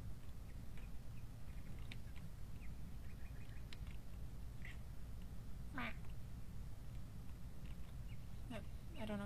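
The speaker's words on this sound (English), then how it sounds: "She meowed at me." A pet house cat meows nearby during a video game session, with a couple of brief rising calls late on over steady low hum and scattered game sounds.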